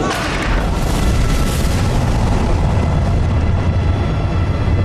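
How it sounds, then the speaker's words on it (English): Submarine torpedo tubes firing in a film scene, a loud heavy boom that rolls into a sustained rumbling whoosh, dense and close, with no voices over it. "We've just fired our torpedoes."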